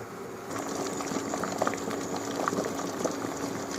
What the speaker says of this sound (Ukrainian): І покладемо капусту в киплячу воду.